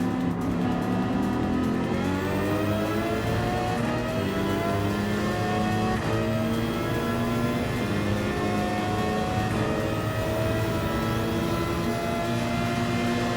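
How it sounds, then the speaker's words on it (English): A Mercedes-AMG race car in Gran Turismo 7, its engine droning steadily and revving up through the gears with rising whine, loud and continuous throughout. "I can hear the sound of that AMG from here."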